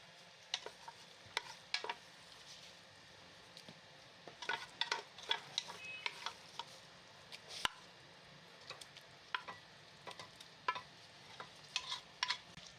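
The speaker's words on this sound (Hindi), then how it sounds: "तो अब हम इसमें ऐड कर देते हैं मैश की हुई गाजरें।" Mashed carrots stirred into boiling milk in a pressure cooker pot for gajar ka halwa, a spoon scraping and clinking against the metal in irregular bursts, with a soft bubbling simmer underneath and no talk.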